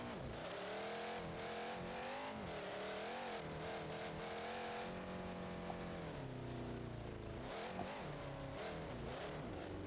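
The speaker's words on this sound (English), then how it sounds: "I am running the manual with clutch gearbox, so clutch in, rev it up" A monster truck engine in the BeamNG.Drive video game revs hard with the clutch in, rising and falling in pitch over steady loud droning harmonics and continuing throughout without speech.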